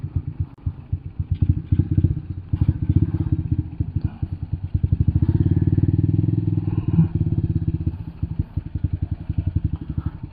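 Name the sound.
modified carbureted motorcycle running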